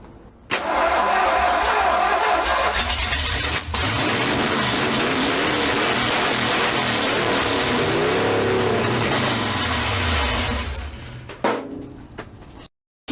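A 1968 Ford Mustang Fastback engine cranks and catches, then runs loud and rough for about ten seconds with uneven revving before cutting off abruptly near the end.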